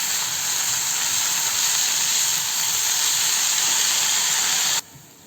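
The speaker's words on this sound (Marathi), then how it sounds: "त्यामध्ये टाकणारे पालक आणि पालक परतून घेणार आहे आता आपण" Spinach sautéing in a hot pan with garlic over high gas flame, a steady dense sizzle and hiss that holds loud and even, then cuts off abruptly near the end.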